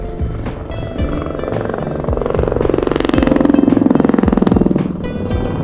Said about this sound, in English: There's a helicopter taking off behind me.